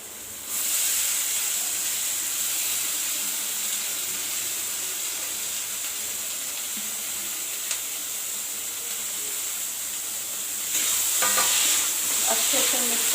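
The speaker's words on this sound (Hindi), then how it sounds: "पक गया है मसाला, तो हम इसमें पनीर को ऐड कर देंगे।" Paneer sizzling steadily in hot frying masala, a continuous close hiss and crackle with faint stirring scrapes, growing slightly louder near the end.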